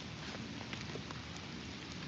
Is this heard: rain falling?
yes